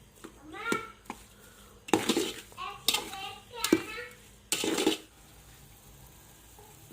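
A spoon stirs gajar ka halwa, grated carrot cooking in reducing milk and sugar in a pan: a handful of scraping, clattering strokes against metal in quick succession, then a quieter pause.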